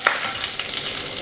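Cumin, cardamom, cloves, cinnamon and pepper are stirred in hot oil for a paneer peas pulao, giving a brief, soft sizzle with a light scrape.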